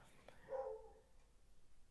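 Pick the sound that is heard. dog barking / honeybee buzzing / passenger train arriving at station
dog barking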